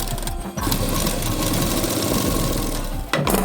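A sewing machine stitches a blouse sleeve onto the body in a continuous, close, rapid mechanical chatter, with brief pauses near the start and near the end.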